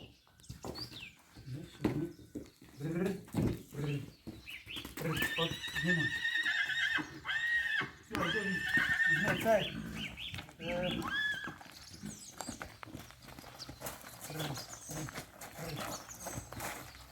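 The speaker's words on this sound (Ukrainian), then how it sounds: "Зараз будете бачити кобилу і будете бачити ще одного новонародженого жеребця на Україні" A mare and her twelve-day-old foal neighing and whinnying close by, several drawn-out calls in the middle with hooves shuffling, while people talk over and between them.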